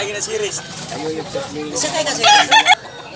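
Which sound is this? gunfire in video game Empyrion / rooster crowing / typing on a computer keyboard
rooster crowing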